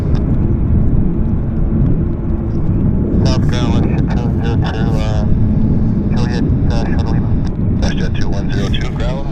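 A jet airliner roars on a wet runway at YVR, a loud, steady rumble with a spray-like wash. Radio chatter and talk run over it partway through.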